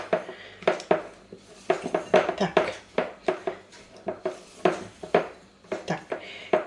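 Crumble topping ingredients being mixed in a bowl for a fruit-topped yeast cake, giving rapid, uneven clinks and scrapes of utensil against the bowl, close and continuous, with no talking.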